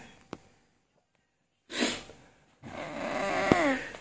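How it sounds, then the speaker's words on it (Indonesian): A cat snores loudly in two long, raspy breaths with a short gap between them, following a near-silent start broken by a single faint click. "Mendengkur atau ngorok."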